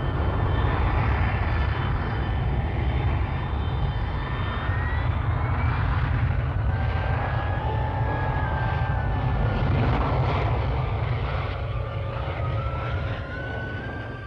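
RAF Kestrel jump jet taking off from a temporary field airstrip, a loud, continuous roaring engine drone with rising whine tones sustained throughout.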